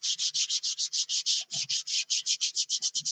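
Rapid rhythmic hand sanding of a blocker coat, about twenty steady back-and-forth strokes, close and even, with brief faint knocks in between.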